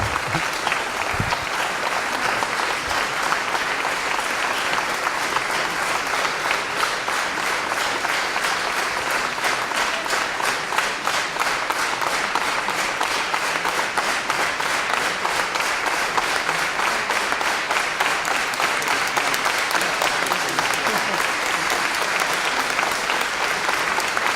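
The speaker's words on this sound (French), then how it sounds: "c'est justement là qu'il faut applaudir" Sustained, dense applause from a large audience at the 13th Tolerantia Awards ceremony, steady and loud throughout with no pause, a wash of many hands clapping together.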